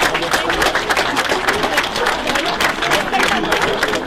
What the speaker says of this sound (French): un tonnerre d'applaudissements pour eux